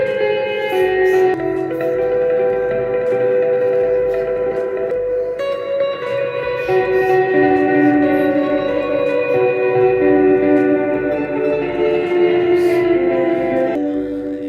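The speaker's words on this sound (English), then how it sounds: "if you would add the tap echo delay, it would sound something quite like this" An electric guitar plays fast gothic tremolo-picked notes through a tap echo delay, sustained and loud with repeating echoes building an eerie wash, alone without voices.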